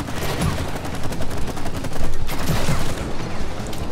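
Video game gunfire with dense, continuous rapid bursts like automatic weapons, loud and sustained throughout.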